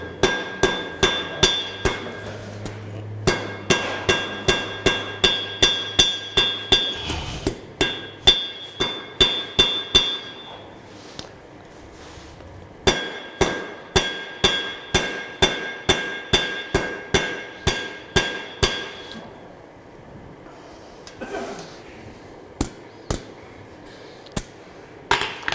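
A blacksmith hammers hot steel to scarf it for a forge weld, striking sharp ringing blows in fast, steady runs with short pauses between bursts.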